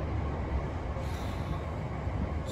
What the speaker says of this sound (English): I'm just on the train now